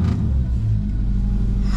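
Renault 4L car engine on the 4L Trophy rally, a rough, close sputtering rumble as it fires up and revs, loud and throaty for a short burst.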